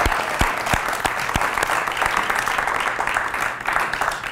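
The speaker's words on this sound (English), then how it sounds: "can we get a round of applause for every volunteer that came up with us on stage tonight?" Theater audience gives steady, full applause for volunteers who joined the performers on stage, dense clapping with a few sharp near claps and some crowd voices.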